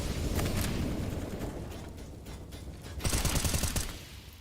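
Dense gunfire in a competitive shooter match, including a Pinnacle Cup game between FTW and Isurus, rattles in close overlapping bursts, easing off midway before a sharp louder volley near the end.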